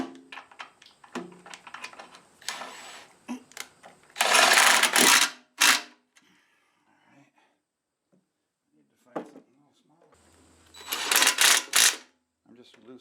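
Bolts on the flywheel of a Ford 347 stroker engine are tightened by hand, with quick bursts of ratchet clicking, metallic tool clatter and pauses between.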